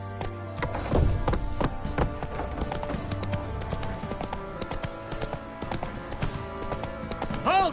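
Roach the horse gallops in The Witcher 3, a steady clip-clop of hooves repeating throughout over in-game music and ambience, with no speech.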